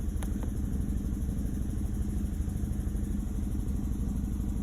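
A Chevrolet Malibu engine with a misfire idles close by, a low rough rumble with an uneven pulsing beat and faint high whine, steady and alone for a few seconds.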